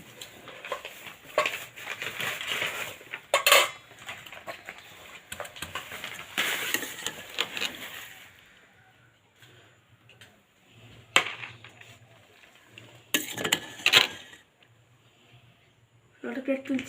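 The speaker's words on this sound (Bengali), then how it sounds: "প্লেট তুলছি" Plates being lifted and stacked in a home kitchen set amid greenery, giving a few sharp, close clinks and clatters at irregular intervals over steady rustling and handling noise, with quieter gaps between the bursts.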